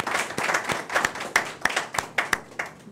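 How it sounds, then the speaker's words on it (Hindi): Applause from a small audience at a Hindi poetry gathering, a handful of people clapping in distinct irregular sharp hand claps, close and moderately loud, thinning out over three seconds. "जोरदार तालियों से अभिनंदन करें।"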